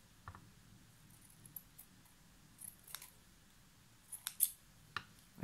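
Scissors snipping off surplus scraps of lace fabric and curtain material at a sewing table, a few short, faint crisp cuts spread out over quiet room tone, with slightly tired, dull blades.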